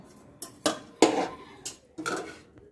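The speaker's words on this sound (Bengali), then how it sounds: "ক্রমাগত নাড়াচাড়া করছি এই কারণে নাড়ের মিশ্রণটা বাটির নিচে লেগে গেলে রসমালাইয়ের স্বাদটা খারাপ হয়ে যাবে" A spoon stirs a milk mixture for bread rasmalai in a pot, making a handful of separate metallic clinks and scrapes at uneven intervals against a quiet background, with no voices.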